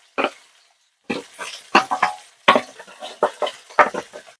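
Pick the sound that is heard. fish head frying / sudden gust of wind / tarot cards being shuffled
fish head frying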